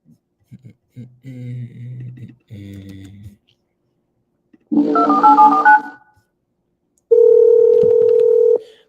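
A telephone call being placed: two short bursts of keypad dialing tones, then a louder electronic ring or call tone, then a long steady tone, each separated by brief silences, close and clear.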